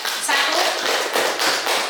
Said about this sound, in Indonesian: kita tepuk tangan dulu untuk kelompok